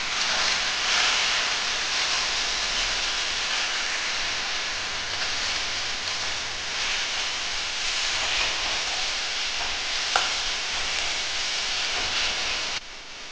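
Spiced potato and soybean curry sizzles steadily in a frying pan with cumin, chilli and turmeric powders, a continuous loud hiss of frying with occasional faint scrapes of stirring.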